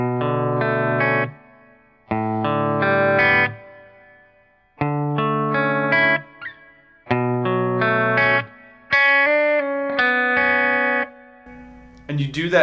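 Electric guitar plays a section of a song through distortion and chorus effects, in four bursts of strummed, ringing chords with short gaps between them, up close and without talk.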